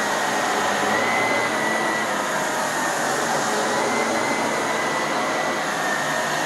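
A Shark vacuum cleaner runs on carpet with a loud, steady, high-pitched motor whine and suction roar that holds constant throughout, close to the microphone with no talking.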